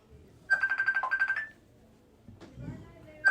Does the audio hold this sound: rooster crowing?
no